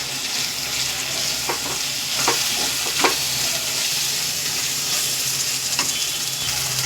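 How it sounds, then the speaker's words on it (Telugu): Ground coriander, garam masala and fresh coriander leaves being stirred into a gravy for Rayalaseema-style taro curry, a steady close sizzle with the occasional scrape and clink of a spoon against the pan. "ధనియాల పొడి, కొంచెం గరం మసాలా, కొంచెం కొత్తిమీర వేసేసి కలబెట్టుకుందాం"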